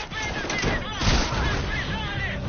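Enemy shotgun fire in Metal Gear Solid V: The Phantom Pain, loud dense blasts and crackling gunfire filling the whole moment amid game noise, with no pause between bursts.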